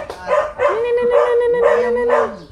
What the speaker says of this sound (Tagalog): Ay kasama yung aso oh.